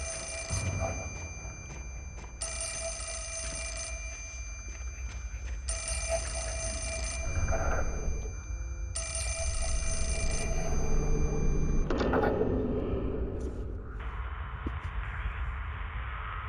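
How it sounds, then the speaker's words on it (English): In the horror game Fatal Frame IV: Mask of the Lunar Eclipse, a telephone rings in steady repeated bursts of bright bell-like trilling, separated by short pauses, over a dark ambient game soundscape. "And the phone's going off"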